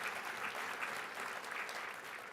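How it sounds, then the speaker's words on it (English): An audience applauds a team at a soybean event, a dense, even round of clapping sustained through the whole brief stretch with no talk over it. "Let's give this team another round of applause for their creativity"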